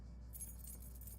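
Keys jangle in The Talos Principle video game, a short metallic rattle over a steady low hum, fairly quiet and alone with no talk.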